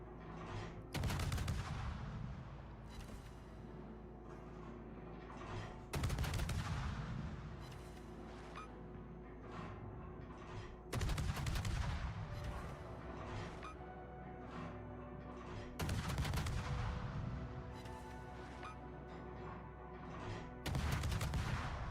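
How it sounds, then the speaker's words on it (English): Naval guns fire in the World of Warships video game, sounding as five heavy booming salvos spaced about five seconds apart, each with a sharp attack and a long rumbling decay. "If you have anything with like mildly good AP or HE, you can just remove its turrets."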